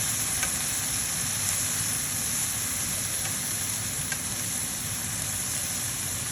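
Silkworms stir-fry with fish sauce in a hot pan, giving a steady close sizzle and hiss, with faint scrapes and clicks of stirring heard now and then beneath it.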